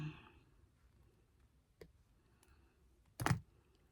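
Jewelry wire being snipped while making beach-chip bead earrings: one sharp, fairly close cutter snap stands out against quiet room tone, with a fainter click just before it.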